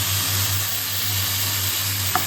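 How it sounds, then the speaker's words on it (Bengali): Chicken stir-fried with spices in a pan gives a loud, steady close-up sizzle over a low background hum, with one small clink near the end. "তো এই যে আমি চিকেনটার মধ্যে দিয়ে দিয়েছি, ভালো করে এবার ওর সাথে কষাবো।"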